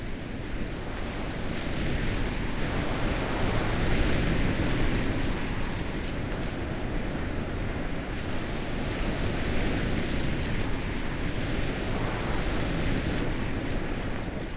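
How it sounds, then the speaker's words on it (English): A loud waterfall in the video game The Witness roars as a steady, dense rush of water that fills the whole clip at an even level, with no voices over it. "Yeah, that waterfall is quite loud."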